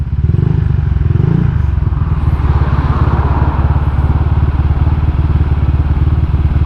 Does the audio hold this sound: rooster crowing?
no